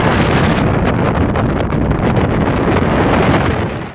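Strong wind roars across the microphone high on Acatenango volcano, a loud continuous buffeting rumble with gusting surges and no voices throughout.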